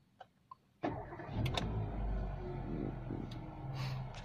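A 2013 Kia Rio with automatic transmission starts up, with a couple of faint clicks, then the engine cranks and catches into a steady idle heard from inside the car.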